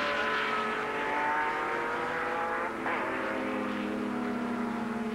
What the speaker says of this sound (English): Oh, around goes a Porsche 908.